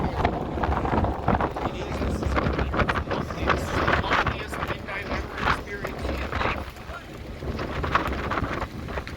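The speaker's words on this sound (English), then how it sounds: "This wind was starting to get to me." Strong wind buffets the microphone on the open deck of the Queen of Surrey ferry crossing from Horseshoe Bay to Langdale, roaring in loud uneven gusts the whole time.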